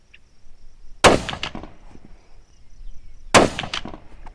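Two sharp, loud rifle shots from a Ruger American Gen 2 fitted with a Vortex Viper HD scope at a target range, about two seconds apart, each with a short rolling echo.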